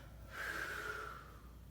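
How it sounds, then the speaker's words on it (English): One slow, close breath out during a breathing exercise, a soft airy exhale lasting about a second against quiet room tone. "and closing, breathing out."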